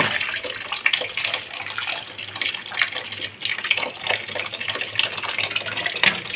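Laundry, school uniforms, washed by hand in water, with continuous close splashing and sloshing that rises and falls in an uneven rhythm, no talking.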